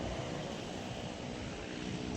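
An airplane passes overhead, heard from a house rooftop as a steady, even, distant engine drone that continues throughout without any talking.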